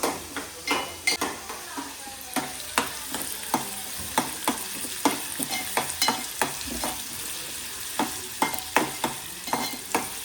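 Onions frying in a pan until reddish, with a steady sizzle under repeated sharp scrapes and taps of a spoon against the pan, close and fairly rhythmic.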